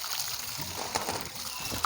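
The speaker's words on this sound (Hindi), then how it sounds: "थोड़ा सा ऊपर से ये पानी डाल लो, मीठा पानी हम थोड़ा सा डाल देते हैं ऊपर से।" Water is poured and sloshed over wheat grain being washed in the village, a soft continuous splashing and trickling that runs low and steady beneath quiet talk.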